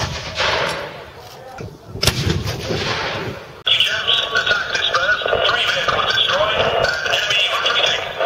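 Mark II 25-pounder quick-firing gun howitzers fire in a World War II video game, a couple of heavy booming blasts followed by continuous rumbling battle noise, with someone talking over radio throughout.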